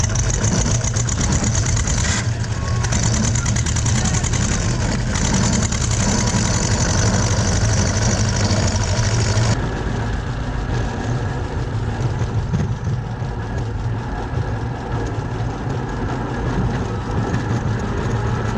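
Tractor engines roar at a tractor race in Josefov, a loud continuous rumble of several engines running hard, with a gritty knocking texture that eases slightly partway through.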